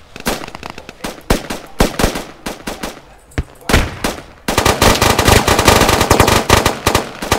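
Rapid automatic gunfire in the video game Squad during a pre-alpha city battle: scattered sharp bursts at first, then a dense, continuous barrage of overlapping shots, loud and close.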